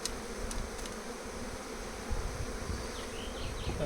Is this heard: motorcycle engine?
no